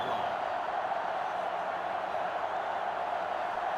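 Sellout stadium crowd in NCAA Football 2005 on GameCube, Notre Dame against LSU, a steady broad roar that holds evenly through the whole stretch with no talk over it.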